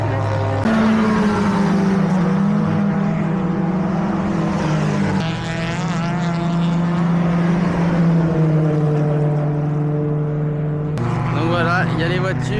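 Cars drone around a race circuit in Spain, their engines rising and falling as they pass one after another, near and loud throughout. Voices talk over the noise.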